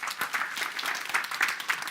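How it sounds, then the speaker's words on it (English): An audience at a financial-freedom seminar claps in a steady, dense round of applause, moderately close and continuous throughout, with no voices over it. "Give him a round of applause for starting that movement."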